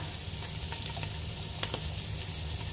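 Meat fries in a pan with a steady, dense sizzle throughout, close and constant, with a few faint clicks of stirring.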